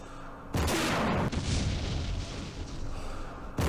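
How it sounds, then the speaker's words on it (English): Artillery shells landing in Campaign Series Middle East: a sudden loud booming barrage that starts abruptly and rumbles on for about three seconds, with another impact starting at the end. "The artillery is hitting."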